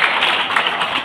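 A 2nd-grade school class claps together for a student's correct answer, a brief, dense burst of many small hands at steady loudness.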